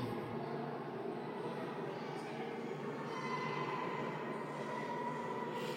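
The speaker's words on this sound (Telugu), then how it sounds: "మీరు చూసి ఆల్రెడీ కొన్ని ట్రైన్స్ వస్తూనే ఉన్నాయి" A steady rumble of trains arriving at Cherlapally railway station fills the air, continuous and moderately loud, with a faint background murmur throughout.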